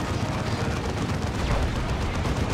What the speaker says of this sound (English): Gets a hit from a plasma cannon.